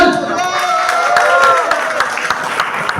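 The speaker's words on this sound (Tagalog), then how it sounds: "Wala bang palakpak dyan?" An audience at a community foundation gathering bursts into applause: dense, steady clapping from a crowd for a few seconds, fairly loud and close, with some voices mixed in.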